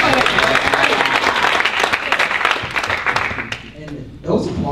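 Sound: audience applause after a film screening

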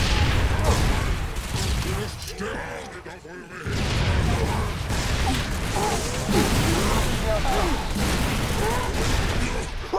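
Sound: gunfire in the video game Halo 3 ODST

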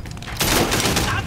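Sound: gunfire from a gun in the video game Sleeping Dogs

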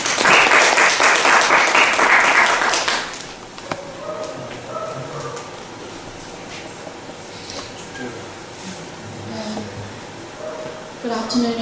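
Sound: audience applause welcoming a speaker

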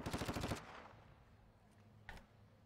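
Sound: gunfire in a video game

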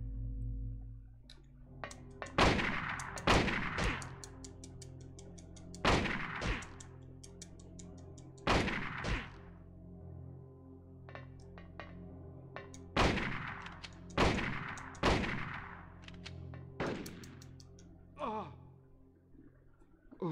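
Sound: gunshots in Silent Hill video game

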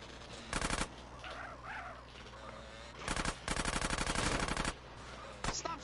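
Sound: gunfire in the video game GTA San Andreas

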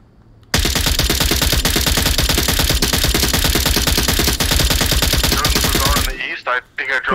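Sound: gunshots in the video game Onward VR

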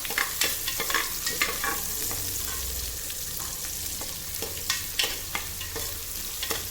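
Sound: small onions frying for mutton intestine curry

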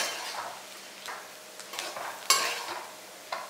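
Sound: sautéing brinjal potato rice with fresh coriander leaves

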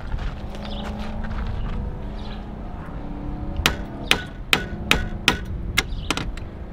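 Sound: hammering with a big hammer

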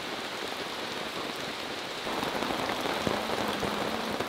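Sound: rain falling in the Sumatran jungle

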